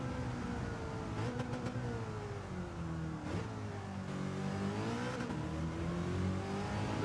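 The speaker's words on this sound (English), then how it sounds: "Absolute blistering little car, this one." Engine of a 1966 Ford GT40 race car in Gran Turismo 7, a steady loud drone rising and falling through gear changes and revs, alone without talk.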